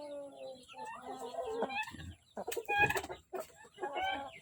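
Japanese-breed chickens cluck and squawk up close in a steady stream of calls, with a few sharper louder bursts partway through.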